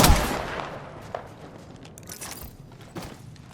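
Gunfire in the video game Apex Legends: a sharp shot at the start, then scattered fainter cracks and impacts over steady game ambience, with no talking.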